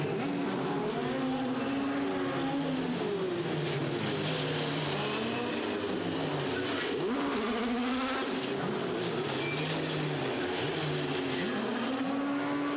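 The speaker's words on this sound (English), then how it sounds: "Nine cars coming to the grid here at Anderstorp in Sweden" International Formula Masters race cars lap Anderstorp in Sweden, their engines roaring loud and continuous with repeated rising and falling pitch sweeps as they rev and pass, several cars overlapping with no pause.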